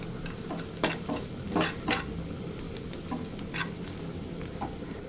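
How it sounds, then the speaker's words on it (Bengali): Onion and chili fry in a pan with a steady close sizzle, marked by scattered clinks and scrapes from stirring, and no one talks. "পেঁয়াজ মরিচ ভাজি করা হচ্ছে"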